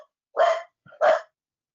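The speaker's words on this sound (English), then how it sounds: "dog is barking" A dog barks twice in quick succession, two short, sharp, close barks with a brief silence between them and no talking.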